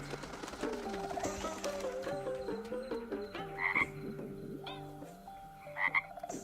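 Chorus of cartoon frogs croaking in a mythological animated kingdom scene, repeated rhythmic croaks layered over a steady musical backdrop, with a couple of brighter accents near the middle and end.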